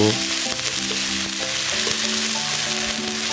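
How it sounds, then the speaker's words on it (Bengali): A paste of ground chili, cumin and coriander sizzles loudly in hot oil while being stirred, a dense, continuous frying hiss close by with no talk. "এবারে ভালো মতো নাড়াচাড়া করে কিছুক্ষণ কষিয়ে নেব"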